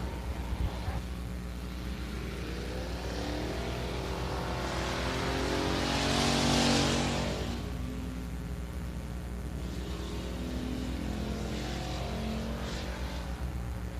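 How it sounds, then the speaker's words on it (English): USRA factory stock race cars roll onto the dirt oval at Big O Speedway for a heat race. Their engines make a steady, continuous rumble, swelling as cars pass near the middle, with no talking. "Rolling on the tracks next is going to be your second heat race for the Ruston Cattle Company USRA factory stocks."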